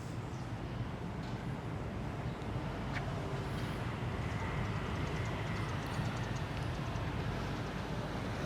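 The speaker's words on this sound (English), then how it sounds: "Hôm nay đi metro." A metro train rolling through Saigon, a steady loud rumble of wheels and carriage noise with a constant low roar throughout and no voices.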